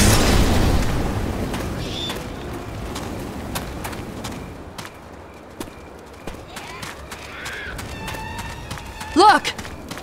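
Grenade blast in the Left 4 Dead 2 zombie shooter, a loud broadband boom at the start that rolls off over a second or so, followed by quieter scattered game noises and a few brief thuds.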